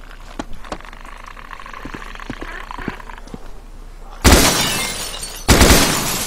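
In the game DayZ, a vehicle rolls over broken glass: a low engine rumble with scattered ticks, then two loud, harsh shattering crunches a little over a second apart.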